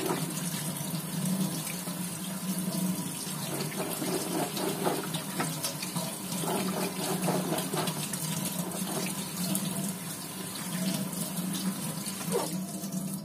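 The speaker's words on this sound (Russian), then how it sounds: "И под холодную воду" Cold tap water running steadily into a sink while something is rinsed under it, a continuous hissing splash with small shifts as the stream is interrupted, close and moderately loud.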